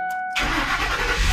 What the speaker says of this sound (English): I'm gonna head inside the vehicle now and start it up to make sure that the vehicle will start